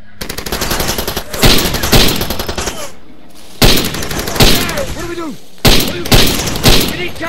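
Bursts of gunfire from Far Cry 2, set in Africa: several loud clusters of rapid shots separated by short pauses, with shouting voices mixed in among the volleys.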